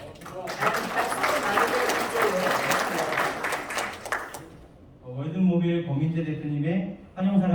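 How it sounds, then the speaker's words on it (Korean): Guests at a welcome reception for the 2022 Korea Camping Car Show applaud for about four seconds in a dense, lively burst, then the clapping stops and an amplified voice takes over and speaks. "뜨거운 박수 부탁드리겠습니다"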